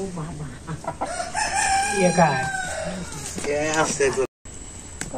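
Village chickens, newly bought by the half kilo for raising, crow and cluck near and loud in a Bangladeshi village yard, mixed in with talking throughout.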